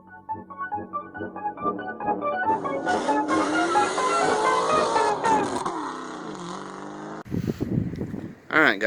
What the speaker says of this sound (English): I'm sure you heard from that racket that AC compressor is going out